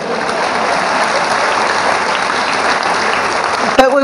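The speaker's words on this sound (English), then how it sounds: "to give Seth applause for being first and getting it right" An awards-ceremony audience applauds student Seth Harris of Barber County for being first, a steady wash of loud clapping filling the whole stretch, with a short sharp knock near the end.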